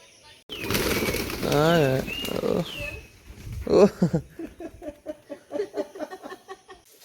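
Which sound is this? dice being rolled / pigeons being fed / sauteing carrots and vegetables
pigeons being fed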